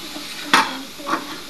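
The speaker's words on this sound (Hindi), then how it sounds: "इसे तड़का लगाते हैं ना सबसे पहले" Tadka tempering hits hot oil in a pan on the kitchen stove, with a sharp sizzling burst followed by a second softer crackle over a low background hiss.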